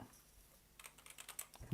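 Keys are tapped on a computer keyboard in a quick, uneven burst of clicks that starts partway through, close and fairly quiet, ending in a louder thump like a key press.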